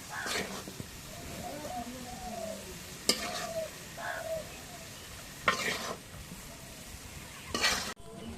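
Chopped green chili and onion frying in a pan, giving a steady sizzle with scraping stirs and a few sharp utensil clinks, while a voice talks over it at intervals.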